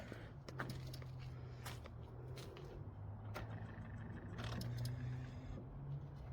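An engine started by ignition settles into a faint, steady low drone, with a few light clicks and rattles around it and no talk.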